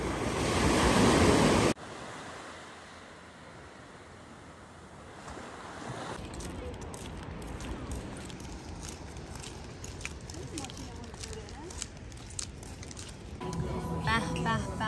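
Sea waves wash onto the shore in steady, broad surf, with wind buffeting the microphone at times and people talking over it through most of the stretch.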